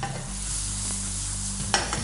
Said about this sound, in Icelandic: Við erum sveppunum aðeins að steikjast.